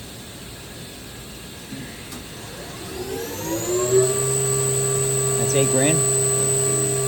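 Bridgeport VMC 1000/22 CNC vertical milling machine, a 1998 four-axis unit with GE Fanuc 18i-M control, its spindle winding up toward 8,000 RPM: a rising whine that settles into a steady high-pitched hum, with a brief spoken question over it.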